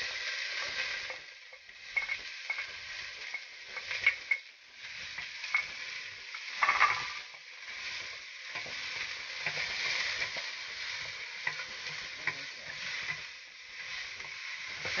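Garlic and onion fry in olive oil with meat for a siopao filling, a soft, crackly sizzle broken by irregular stirring and scraping in the pan.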